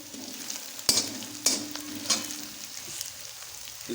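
Garlic and ginger paste fries in a pan with a soft, continuous sizzle, while a few sharp scraping stirs cut through at regular intervals; no one speaks.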